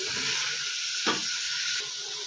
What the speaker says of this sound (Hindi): गोश्त का कलर ब्राउन होने तक हम इसको फ्राई करेंगे।